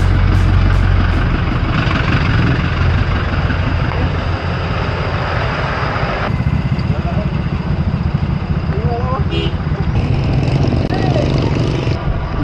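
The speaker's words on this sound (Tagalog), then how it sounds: "Grabe, traffic jam." Idling cars and trucks rumble in a heavy traffic jam, a loud, continuous low engine drone with passing motor whines, while people talk nearby over the noise.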